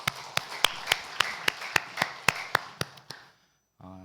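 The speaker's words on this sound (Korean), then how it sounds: "우리 박수로 축하합시다." A church congregation claps together in a steady unison rhythm, about a dozen sharp claps that slow slightly before stopping, followed by a brief quiet gap and a faint sound.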